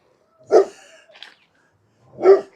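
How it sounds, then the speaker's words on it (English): Guard dogs give two sharp, loud barks about two seconds apart, with a faint whine between them, close by in an otherwise quiet garden. "that's my guard dogs, by the way."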